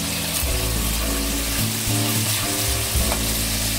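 About a tablespoon of butter sizzles in a pan with white wine for a garlic shallot butter sauce, a loud steady hiss with bubbling underneath.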